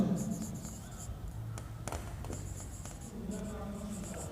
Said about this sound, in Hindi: तो यहाँ पर हम कंक्लूजन लिखेंगे